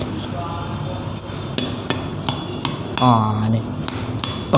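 A ripe Montong durian is struck by hand, a series of dull, muffled knocks spaced irregularly, close and fairly loud, with a brief spoken word in between.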